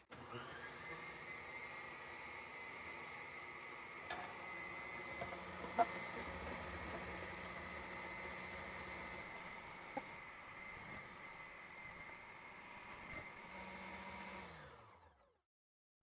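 A Ninja food processor fitted with its shredding disc shreds lettuce, producing a continuous, fairly faint motorized whir with occasional small clicks, running steadily before cutting off near the end.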